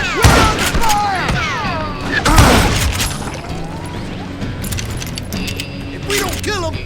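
Gunfire in the 2013 shooter Call of Juarez: Gunslinger: loud close shots and bursts with sharp cracks and booms, heaviest in the first few seconds, then quieter scattered shots, with shouting voices over the top.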